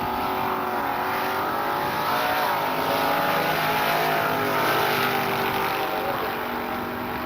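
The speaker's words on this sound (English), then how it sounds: "the full body car taking on the dragster" A full-bodied Chevelle races a dragster at a drag strip, the two engines roaring loud and continuous together for several seconds, a steady dense wall of motor noise with no break.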